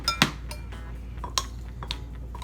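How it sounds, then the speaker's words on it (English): A regular spoon stirs celery, onion and dill for a shrimp dill salad, giving a few sparse clinks and scrapes against the bowl, close and fairly quiet, with no talking. "I'm just gonna use a regular old spoon to mix this."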